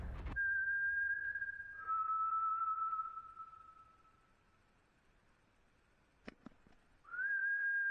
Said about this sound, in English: Why was your whistle so husky?